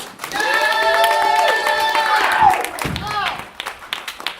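A live-show audience greets a band with whoops, cheers and scattered clapping, a short burst of excited voices that swells and then fades into a few last claps.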